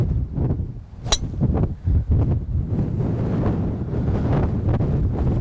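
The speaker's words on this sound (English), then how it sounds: "we're really exposed to the wind going downhill on this shot" Strong gusting wind buffets the microphone on an exposed, downhill golf hole, a loud, close, continuous low rumble with uneven surges and a brief sharp knock early on.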